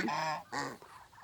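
A goose gives two nasal honks close by, fairly soft, the second shorter, with quiet outdoor background after.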